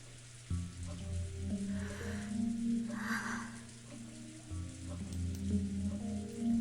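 Steady rain and wind ambience from the video game Umineko Chiru, a continuous wash of falling rain with a low droning tone underneath and a brief swell near the middle, with no voices.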